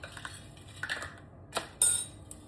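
A spoon clinks against a cup during mixing for homemade primitive Christmas ornaments: a few light, scattered metallic taps close by, ending in a brighter clink, with no talking.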